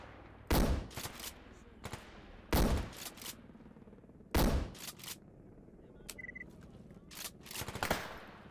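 Gunfire in the video game S.T.A.L.K.E.R. GAMMA: three loud, close bursts of rapid shots at a steady spacing, followed by a looser string of sharper, quieter rounds over a faint background hum.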